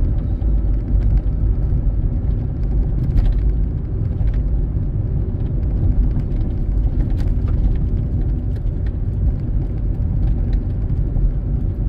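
A lone car drives along a tree-lined state park road, a steady low rumble of tyres and engine that stays constant and close, with no voices.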